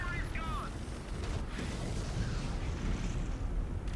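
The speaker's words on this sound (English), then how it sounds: "Missiles away." Missiles launched from a spaceship in the space combat game Fractured Space, a dense rumbling whoosh with muffled blasts, fairly faint and steady throughout.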